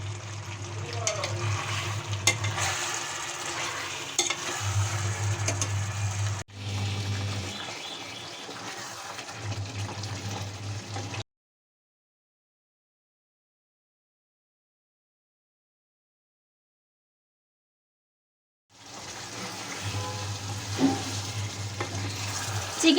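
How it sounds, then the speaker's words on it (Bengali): Chicken and fried potatoes sauté in spices in a pan for chicken kosha, a Bengali dish. A soft steady sizzle is heard close up, with stirring scrapes and a low hum. It drops out completely for several seconds midway, then the sizzle returns. "চিকেনটা একটু কষিয়ে নেওয়ার পর আমি দিয়ে দিচ্ছি ভেজে রাখা আলুটাও আমি কষিয়ে নেব।"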